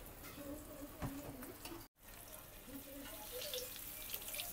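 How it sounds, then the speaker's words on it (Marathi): Rava-coated surmai (kingfish) pieces fry in oil in a Malvani home kitchen, giving a steady close hiss and crackle with faint clatter behind it, briefly cut out once midway. "आणि आता आपलं सुरमईची जे पीस असा तो पूर्ण फ्राय होता"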